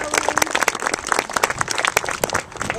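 Applause for the third-place finisher at a soccer skills challenge event, a lively burst of many hands clapping with distinct sharp claps standing out from the crowd, loud and near, tapering slightly toward the end.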